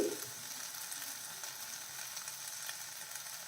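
Kashmiri chili powder and coriander powder sizzle in hot oil in a pan for an okra curry, a steady, close, hissing fry that lasts throughout with no voices.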